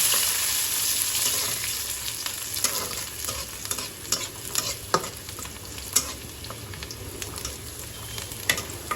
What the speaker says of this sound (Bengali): শুকনো মরিচ করতেছি ভাজতেছি তারপরে এটার মধ্যে একটু দিয়ে দিলাম পেঁয়াজ রসুন